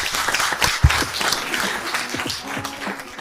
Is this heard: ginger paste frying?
no